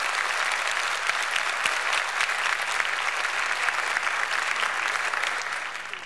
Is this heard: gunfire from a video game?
no